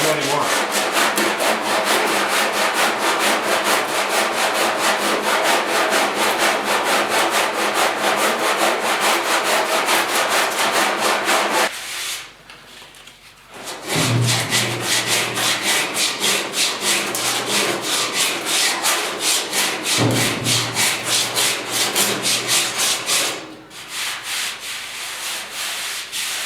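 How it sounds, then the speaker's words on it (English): A car's cab corner bodywork is sanded with 40 grit, giving a loud, continuous rough scratching that pauses briefly twice, close up with no talking. "So you keep sanding until you hit, like on the side here."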